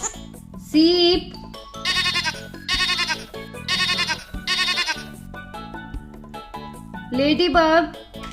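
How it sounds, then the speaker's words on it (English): Two wavering sheep bleats, one early and one near the end, stand out over rhythmic background music. "sheep,"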